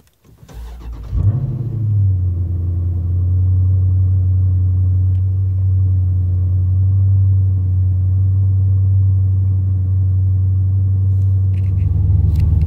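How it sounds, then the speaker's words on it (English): A Dodge Challenger Scat Pack cold start: a quick starter crank catches into a loud flare, then settles into a deep, steady, rumbling idle close by with no talking. "This is technically my first ever cold start in the Scat Pack."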